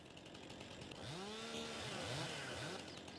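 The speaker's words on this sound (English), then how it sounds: "we got a good chainsaw, a good steel chainsaw there." Chainsaw in the Farming Simulator 22 video game, a steel saw: a rising, revving engine whine swells and drops in several short pulses over a steady mechanical hum, fairly faint and alone without talk.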